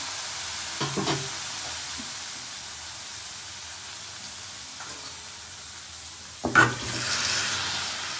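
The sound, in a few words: frying cumin, green chilli, bay leaf and ground spices in pan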